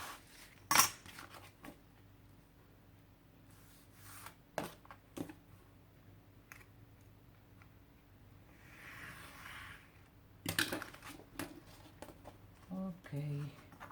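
Scissors snip through folded 12-inch scrapbook paper in a few separate crisp cuts spread out over time, mixed with paper rustling and handling noises in a quiet room.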